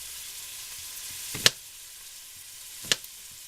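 Steady hiss of half an onion frying in an Instant Pot, a constant bright sizzle with two sharp clinks of a utensil against the pot.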